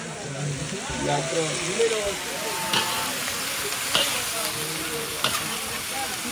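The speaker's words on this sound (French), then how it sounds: "L'ail gingembre, ça est sauté." Garlic and ginger sauté in a pan for a Creole dish, a steady broadband sizzle with occasional stirring scrapes while people talk over it.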